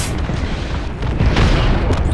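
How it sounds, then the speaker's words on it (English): Airstrike explosions in Apex Legends, a loud continuous rumble of booming blasts that swells toward the middle and stays dense throughout. "I dropped the airstrike."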